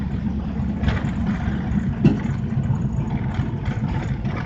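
A 1967 Pontiac LeMans engine runs steadily during a short neighborhood drive, a low, rough, even rumble throughout with a small bump in intensity midway.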